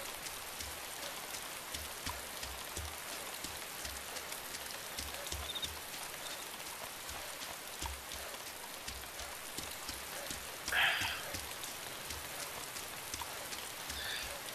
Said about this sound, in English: it's raining cats and dogs up in there.